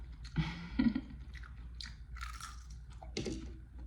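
Chewing and biting in an ASMR setting, with several crunchy bites and wet mastication close to the mic in irregular bursts, with no talking.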